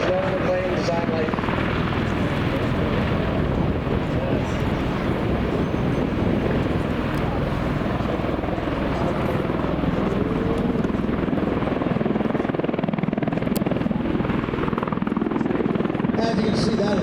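MV-22 Osprey tiltrotor hovering at an air show, its rotors pushing a heavy, continuous roar of churning air and rotor thump that stays loud and steady throughout, with faint voices underneath.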